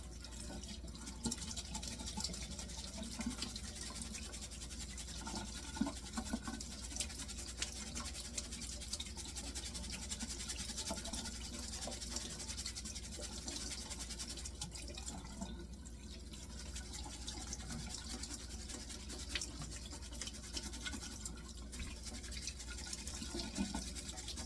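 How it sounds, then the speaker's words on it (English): Rice being rinsed under running water, a steady continuous stream with soft sloshing and dripping, close and fairly quiet, with no talking. "I just have to rinse this off well until it's clear."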